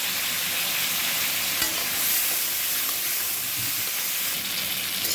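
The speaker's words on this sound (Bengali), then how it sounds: "এখন সবজিটাও দিয়ে দেবো ভালো করে ভেজে নেব" Steady, loud sizzling of vegetables frying in a hot pan, a continuous hiss with occasional scraping stirs, no voices.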